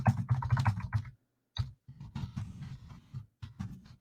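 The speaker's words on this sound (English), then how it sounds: "just type in something here real quick" Quick bursts of typing on a computer keyboard, close and clear, with short pauses between clusters of keystrokes and no talking.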